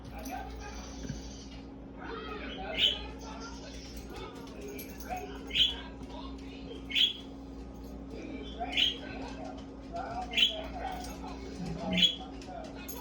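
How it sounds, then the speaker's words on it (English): Cardinals and other birds at a snowy winter feeder in North Carolina give repeated sharp chirps every second or so, moderately near, over a low steady hum, while a person talks. "Look at the birds."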